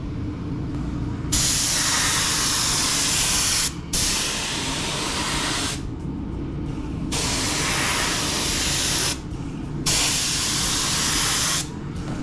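A cheap Harbor Freight paint gun sprays paint onto an SN95 Mustang GT panel in loud, steady hissing bursts of a few seconds each, broken by brief pauses between passes.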